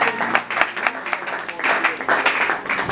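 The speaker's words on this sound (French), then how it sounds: "Acclamons pour le Seigneur." Church congregation applauding during a French-language worship service, a steady wash of clapping with rhythmic bursts, mixed with voices and shouts throughout.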